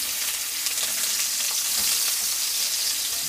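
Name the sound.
onion frying in a very hot pan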